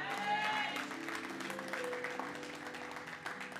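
A church congregation applauds in praise of the Lord, a steady wash of clapping that fills the room for a few seconds, with faint voices and a held musical tone beneath.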